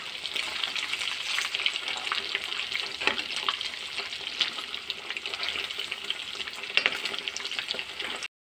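Fish pieces frying in hot oil in a pan, a steady dense crackle and hiss that runs unbroken and close for several seconds before cutting off abruptly, with no voices.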